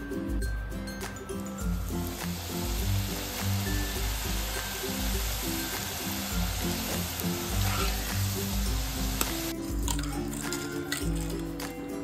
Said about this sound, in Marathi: जसजसे आपण हे तुकडे फ्राय करत जातो